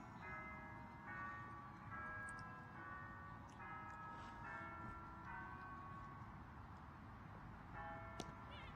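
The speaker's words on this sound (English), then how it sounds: "church bells pealing in the background there" Church bells pealing in the distance, with a steady run of ringing tones that overlap continuously behind a faint background hum at a cricket match, quiet and far off, with no talk.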